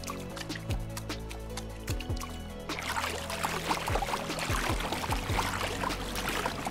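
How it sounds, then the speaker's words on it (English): Watery sloshing steps and splashes from a video game character walking through water, a steady run of liquid movement that thickens midway, with low thuds repeating under the wet churn. "I also made it sound like you are walking through water."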